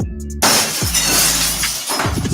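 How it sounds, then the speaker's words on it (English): Glass smashes loudly and suddenly after a brief low hum, followed by a bright spray of shards tinkling and scattering for about two seconds, close and alone with no talk. "Smashing glass,"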